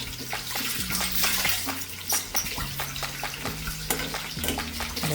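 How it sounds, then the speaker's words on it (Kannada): Chicken kabab pieces deep fry in hot oil with a steady sizzle and bubbling. Repeated clinks and scrapes of stirring come through along with a low humming tone in the background. "ಸೊ ಈ ಥರ ರೆಡ್ಗೆ ಡೀಪ್ ಫ್ರೈ ಆಗೋ ಥರ ನೀವು ಫ್ರೈ ಮಾಡ್ಕೋಬೇಕು ಆಯಿಲಲ್ಲಿ"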